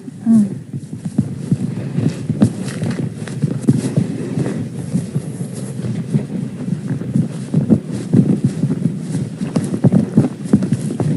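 A herd of horses on a ranch moves along, hooves clip-clopping in a steady, uneven patter on the ground under wind noise on the microphone for the whole stretch.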